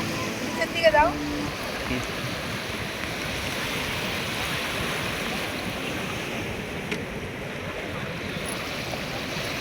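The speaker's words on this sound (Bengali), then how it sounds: "রাতে এত সুন্দর পরিবেশ সমুদ্রের মিষ্টি হাওয়া সমুদ্রের হালকা হালকা জলরাশির হালকা হালকা ছোঁয়া" Gentle sea waves washing onto a beach at night, a soft continuous surf wash with breezy wind noise, fairly faint and steady throughout.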